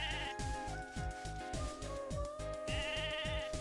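Sheep bleat in the online game Mabinogi, repeated rhythmic bleats over a steady game-music bed with sustained tones, all at even loudness and with no talk.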